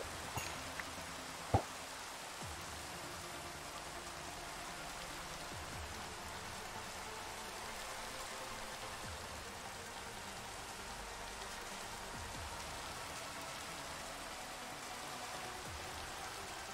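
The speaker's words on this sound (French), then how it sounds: "il pleut comme vache qui pisse maintenant" Steady heavy rain hisses across the whole stretch in Minecraft, with a faint click near the start and no voices.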